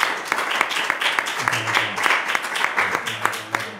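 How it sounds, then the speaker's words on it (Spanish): An audience applauds two Goya Award nominees with a steady wash of clapping, close and continuous throughout, while a voice talks faintly over it. "Os aplaudimos."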